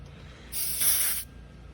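A short burst of air purged from a refrigerant hose while servicing a central air conditioner low on refrigerant, heard as a single steady hiss lasting under a second, swelling slightly mid-burst before cutting off, fairly close and alone.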